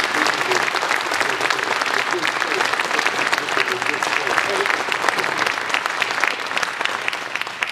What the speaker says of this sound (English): We get a round of applause for our special guest today